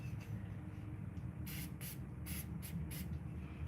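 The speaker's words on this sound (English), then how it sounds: "Let me get my spray thing right here." A handheld spray bottle spritzes onto a paper towel in about five short, sharp hissing bursts, close over a quiet low room hum, with no talking.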